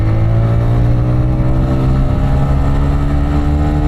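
A TVS Raider 125 motorcycle engine in power mode revs near 9500 rpm, a loud, steady high-pitched buzzing drone held close and constant throughout.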